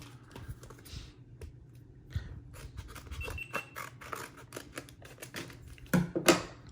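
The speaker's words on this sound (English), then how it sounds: "It's time for some scissors." Scissors snip and crunch through packaging in a run of sharp, uneven clicks and crinkles, close up, with some rustling in between.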